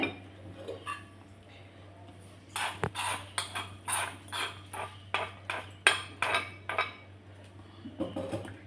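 A spoon scrapes and clinks against a bowl as onion and roasted chana dal salad is mixed with tempering, a quick run of sharp clatters after a quiet start, close and fairly loud.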